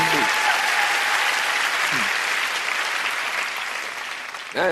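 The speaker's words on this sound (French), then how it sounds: "ça s'applaudit, mesdames et messieurs" A theatre audience at a comedy show bursts into sustained applause, a dense, bright wash of clapping that gradually thins toward the end, with a few voices speaking over it.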